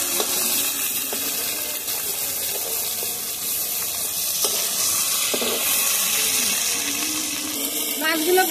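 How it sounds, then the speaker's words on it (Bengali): Stinging catfish fry in hot oil in a wok with a steady, dense sizzle and crackle that holds for several seconds, close and loud, with faint clinks now and then. "মাছগুলো আমি হালকা ভেজে নেব।"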